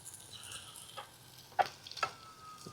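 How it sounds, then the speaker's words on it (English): Tomato sauce is stirred in a pan on an Ozark Trail camping stove, with soft sizzling under a handful of scattered scrapes and utensil clinks against the pan. "Let's mix it well. Get that nice tomato sauce in there."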